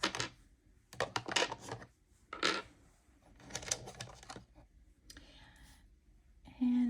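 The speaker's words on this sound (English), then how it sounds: "We are rolling a 4-sided dice." A four-sided die is rolled several times, giving bursts of light clicking and tumbling taps separated by short pauses, close and fairly quiet, with a brief faint voice near the end.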